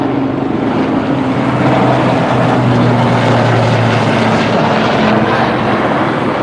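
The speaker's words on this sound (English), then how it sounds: "The helicopter." Helicopter flying overhead, a loud continuous engine and rotor roar with a steady low hum filling the whole stretch.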